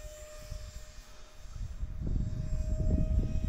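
A Habu 50mm RC ducted-fan jet plane flies past at a model airfield, a faint distant whooshing whine that swells louder toward the end, with no talking.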